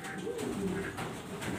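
Big black pigeons coo in low, soft, rolling calls close by, a couple of overlapping murmurs at an exhibition loft, with a faint voice in the background.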